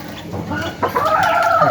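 A golden hen among backyard poultry clucks loudly and close by, a short run of rising, drawn-out clucks heard alone with no talking.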